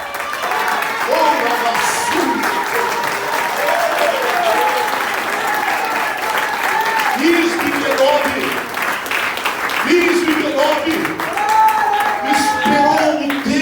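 A church congregation at a teaching service gives a long, sustained round of applause, loud and steady throughout, with tonal music and raised voices running beneath the clapping.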